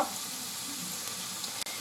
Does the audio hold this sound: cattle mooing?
no